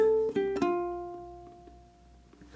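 A ukulele picks out a short, simple solo phrase: a few plucked notes in quick succession, then a held note that rings and slowly fades, played alone and close.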